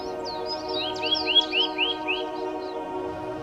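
A small bird chirps in a quick series of rising and falling tweets, clear and fairly close, over a steady low background hum.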